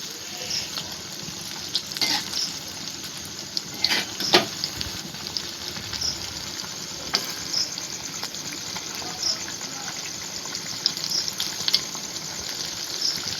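Palm fruit fritters (taler bora) fry in hot oil, giving a steady close sizzle and bubbling with occasional sharper pops and crackles throughout.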